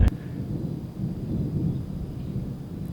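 A deep, continuous rumble of thunder rolling at a distance during a storm in North Platte, Nebraska, steady and low throughout with no talk over it.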